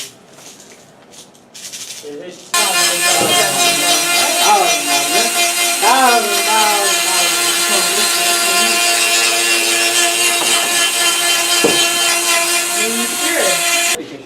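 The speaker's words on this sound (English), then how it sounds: "get this Dremel, and we're gonna sand the bulkhead in order for it to fit in our body tube" A handheld Dremel rotary tool sands the edge of a model rocket bulkhead so it fits the body tube in a high school aerospace class, starting after a quiet moment and then whining continuously and loudly up close.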